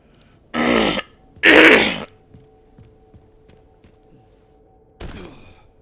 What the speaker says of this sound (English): So I keep going silent for brief periods and clear my throat so much.